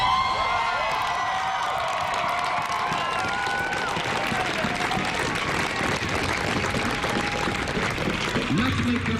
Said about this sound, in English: People are now standing up and chanting more.